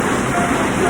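Heavy rain pours down in a dense, constant hiss of drops hitting surfaces, loud and unbroken throughout.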